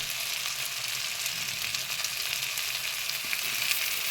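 Spices and onion sautéing in hot oil for a shol fish kaliya, a continuous dense hiss of frying, fairly faint and even throughout.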